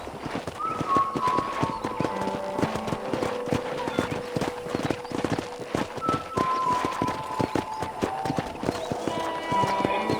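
Horse hooves clip-clop steadily in Red Dead Redemption, a brisk repeated rhythm of close, crisp hoofbeats, with faint musical tones and a brief whinny in the background.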